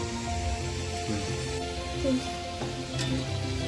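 Potatoes fry in a pan of hot oil for a meat curry, giving a steady close sizzle that runs the whole time with a few faint stir knocks.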